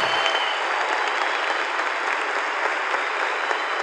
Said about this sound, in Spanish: El aplauso es para ustedes, por favor.